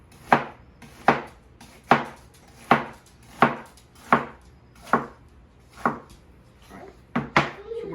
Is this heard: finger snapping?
no